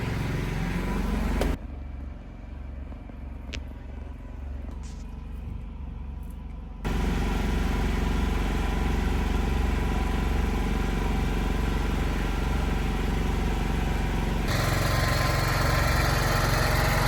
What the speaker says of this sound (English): I'm using a gasoline generator. This generator that I'm using is an inverter generator